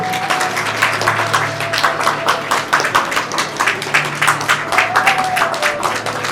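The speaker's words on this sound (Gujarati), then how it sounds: "ખૂબ તાળીઓથી વધાવજો" Audience members at an honouring ceremony during a yagya at Momai Dham Bhader clap steadily, a rhythmic, moderately loud round of applause with a faint tonal hum underneath.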